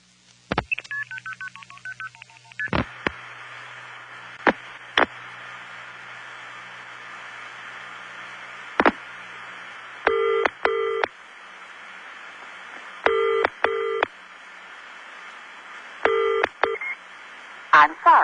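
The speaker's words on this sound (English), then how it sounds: "Calling the Bahamas in the 70s, you could very much hear the influence of the British Empire by the normal double ring" A vintage 1970s telephone call to the Bahamas: a rapid burst of touch-tone dialing, then a quiet line with faint static and repeated British-style double rings, each pair of tones separated by several seconds of silence.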